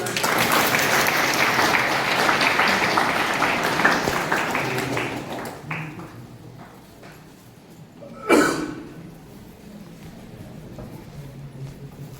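Audience applause welcoming a guest at a college language festival event, a dense crowd clapping that fills the room for several seconds, then fades out, followed by a brief sharp noise and quiet room tone.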